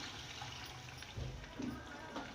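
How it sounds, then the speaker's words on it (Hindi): Water from two glasses poured into a cooking pot of meat for chana dal gosht, a short, faint splashing and gurgling of liquid against the pot in a quiet kitchen. "देखिए ये 2 गिलास पानी के मैं इसमें डाल रही हूँ।"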